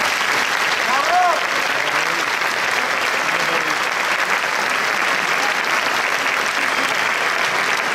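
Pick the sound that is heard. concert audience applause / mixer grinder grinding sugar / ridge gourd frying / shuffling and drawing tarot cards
concert audience applause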